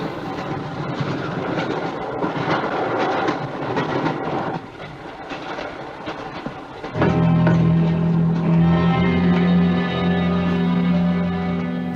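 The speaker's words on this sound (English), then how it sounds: "The train again, this time from the perspective of a scorpion." Train in the film Horror Express, rumbling and clattering with echoey effects before a loud sustained whistle-like tone takes over for the second half.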